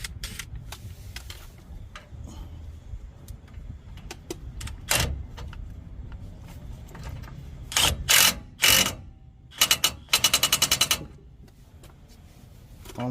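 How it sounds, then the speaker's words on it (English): A ratchet turns the castle nut on a lower ball joint during a 6-inch lift kit install on a Dodge Ram 1500. Faint mechanical clicking and handling noises come first, then several close bursts of rapid ratchet clicks. "All I'm doing right now is turning the castle nut so I can get the quarter pin in it."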